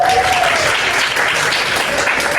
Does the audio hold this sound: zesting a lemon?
no